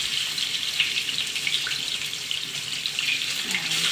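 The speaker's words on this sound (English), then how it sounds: "then I'm gonna put my fillets in here, presentation side down" Salmon fillets go presentation side down into a hot pan and set off a continuous, fairly loud hiss of sizzling that holds steady throughout, with no one speaking.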